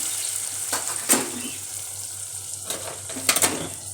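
Food for stuffed vegetables stirred in a frying pan, a low steady sizzle with a few sharp scrapes and clinks of a utensil against the pan.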